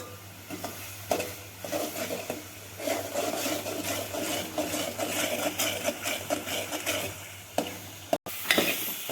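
A spoon scrapes and stirs a thick mango kalakand mixture with grated coconut in ghee in a pan, rhythmic rubbing strokes over a soft sizzle and a low steady hum.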